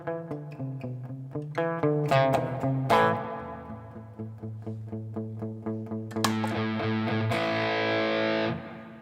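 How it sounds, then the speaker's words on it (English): An electric guitar played through an EarthQuaker Devices Ghost Echo reverb pedal, picked notes and strummed chords ringing with a lush, trailing wash that blooms behind each attack, growing brighter and more saturated toward the end, with no voices. "right now we just have the Ghost Echo on."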